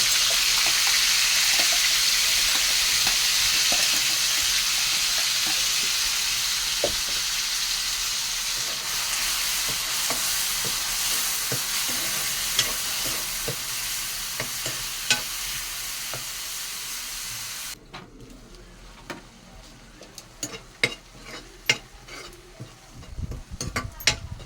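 Onion paste ground with ginger, garlic, green chilli and tomato fries in a pan with a constant hiss and sizzle, while a spoon stirs and scrapes. The frying cuts out near the end, leaving sharp clinks of metal.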